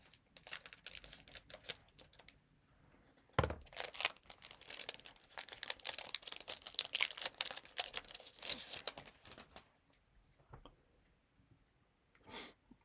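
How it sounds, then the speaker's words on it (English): Crinkling plastic card pack wrapper and snipping of scissors cutting it open in short bursts with brief pauses, close and fairly quiet. "And I'll just use the scissors rather than fumble."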